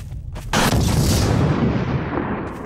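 A missile vehicle fires in Garry's Mod, a sudden heavy blast that bursts in after half a second and rolls on as a loud, sustained rumbling roar.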